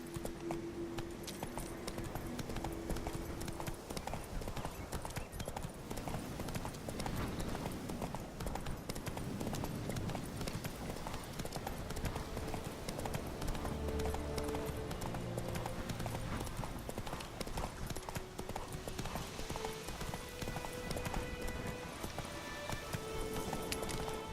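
Roach the horse gallops in The Witcher 3, with a quick, steady clip-clop of hooves on the ground that stays close and even throughout, over a faint ambient backdrop.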